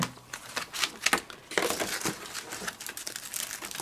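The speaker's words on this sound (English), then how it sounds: "So we're going to cut our foam." Foam sheet being cut with a large metal die in a Diamond Press, heard as a close run of crinkling, crunching pressure sounds with sharp bursts, no talk.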